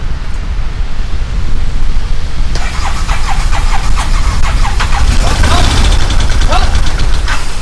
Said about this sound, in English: Let's go ahead and see if this thing fires off now with that new crank sensor.